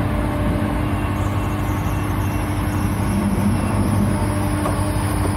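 A Niftylift HR28 boom lift runs on electric power with a steady, even drone and low hum, constant throughout with no talk.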